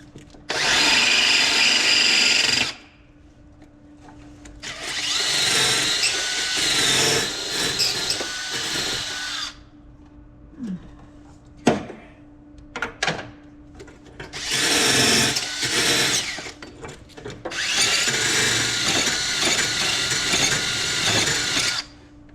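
Power drill fitted with a brush attachment scrubbing metal, loud whirring bursts of several seconds each separated by pauses with clanks and handling noise, close to the microphone with no talking.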